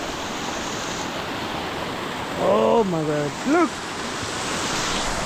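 River water flows through a village in a constant, close, broadband rush that never lets up, while a person briefly exclaims over it midway.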